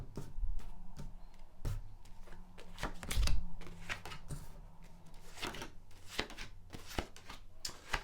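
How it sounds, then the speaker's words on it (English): A Tower of Prague tarot deck is being shuffled by hand, producing a run of crisp, close riffling and tapping card sounds in quick irregular bursts, with no talking. "So a good shuffle. I'm using my Tower of Prague deck."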